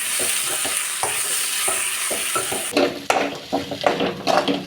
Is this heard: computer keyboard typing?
no